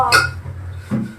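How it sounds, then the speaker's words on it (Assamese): Dishes being washed in a home kitchen give two brief clinks and clatters about a second apart over a low background hum. "বাচন ধুই আছা ভালকে ধুই আছা তো"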